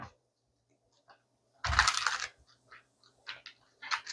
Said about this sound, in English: I'm going to do a few shuffles here with you guys.